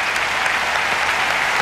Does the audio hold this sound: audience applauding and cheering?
yes